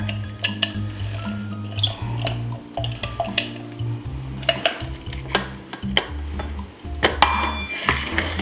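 Sizzling and crackling of meat frying in a pan, with irregular pops and clinks of utensils against the metal, close up and without speech.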